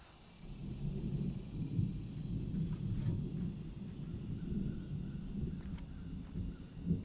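Distant thunder rolls low and steady for several seconds as a storm approaches, with no voices heard.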